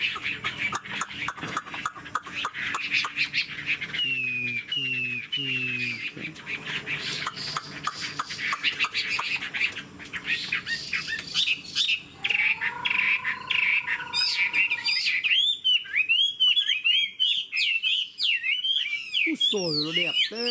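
Chinese hwamei songbirds sing during a bird-fighting contest, pouring out loud, continuous whistled phrases and rapid chirps for the whole stretch, with a low squawking call briefly underneath and no talk.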